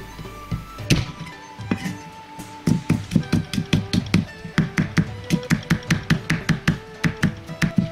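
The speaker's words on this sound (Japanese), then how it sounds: "ニンニクをみじん切りにします。" A knife minces garlic on a cutting board in quick, close, sharp taps that settle into a steady rapid rhythm after a few slower chops.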